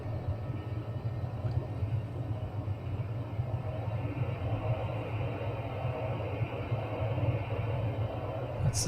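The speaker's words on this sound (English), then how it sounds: "That's the sound of the very flat propellers cutting through the air." A TBM turboprop with very flat propellers taxiing in beta range in a flight simulator produces a steady, droning low hum with a constant airy hiss, unbroken and even throughout, with no voices.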